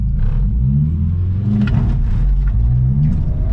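Turbocharged Mitsubishi car engine accelerating on a driving course, a loud, close, low throbbing drone that stays strong throughout with slight rises in pitch.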